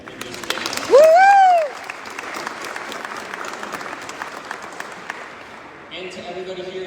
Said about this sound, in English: give them a round of applause once again